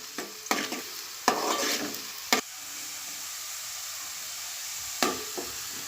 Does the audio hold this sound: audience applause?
no